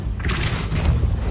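A Depulso spell cast in Hogwarts Legacy gives a deep booming blast, a sustained low rumble with a brighter whoosh burst near the start, loud and close, with no talk.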